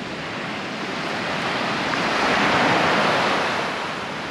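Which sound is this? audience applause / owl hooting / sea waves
sea waves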